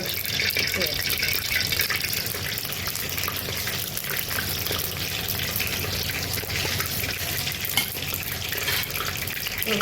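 Fennel seeds frying in oil for a village country chicken curry, a loud continuous hiss and sizzle close up with a voice talking over it.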